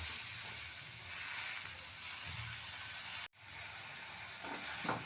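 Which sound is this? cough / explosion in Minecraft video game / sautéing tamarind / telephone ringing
sautéing tamarind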